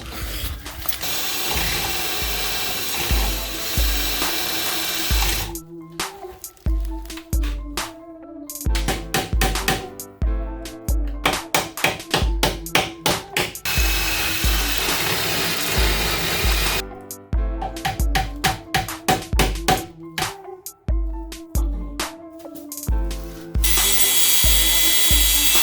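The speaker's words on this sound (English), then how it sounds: "And you drill that out." A power drill works on a part of a Subaru WRX under restoration. It gives loud, rhythmic bursts of whirring that start and stop repeatedly, with a few longer continuous runs.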